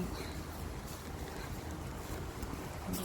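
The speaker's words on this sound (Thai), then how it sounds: "ลมก็ พัดค่อนข้างแรง ลมเย็นจี๊" Strong, cold wind blows outdoors as autumn turns to winter, a steady, loud rush and microphone buffeting with no clear pauses.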